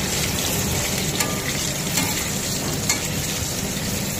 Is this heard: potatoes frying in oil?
yes